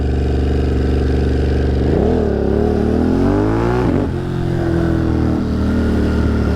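A Ducati motorcycle rides through New York City on a 108°F day, its engine droning steadily, then rising and falling in pitch as the rider shifts and changes speed, loud and close with no talking.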